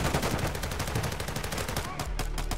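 Mortar strike in the Warzone 2.0 video game: a dense, loud barrage of rapid explosive blasts and gunfire-like bursts that runs continuously, easing slightly near the end.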